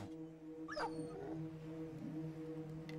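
A dog in the video game Battle Brothers gives a few soft whimpers and yips over a quiet game backdrop of steady tones and low rumble.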